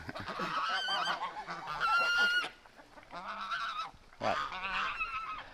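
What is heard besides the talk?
Canada goose honking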